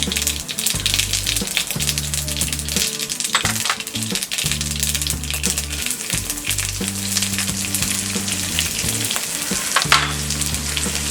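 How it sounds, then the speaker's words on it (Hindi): Mustard seeds and cumin sizzle and pop in hot oil in a pan, a loud, continuous crackle with rapid seed pops and faint rattling throughout, no voices. "पैन में डालेंगे 1 और टेबलस्पून ऑयल। इसमें डालेंगे ये राई, जीरा"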